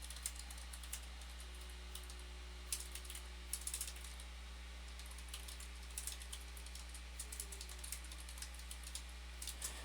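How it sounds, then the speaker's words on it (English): Quiet, rapid keystrokes on a computer keyboard tap away in irregular bursts over a steady low electrical hum, with no one speaking. "I'm just typing as I go"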